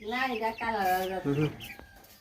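A large Brahma hen gives a few drawn-out, tonal clucking calls up close, then falls quiet.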